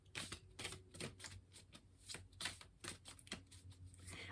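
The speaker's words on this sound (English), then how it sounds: "I was looking down at the cards while I was shuffling" Tarot cards being shuffled by hand in quick, papery riffles and flutters, a steady run of soft crisp bursts close by with no voices.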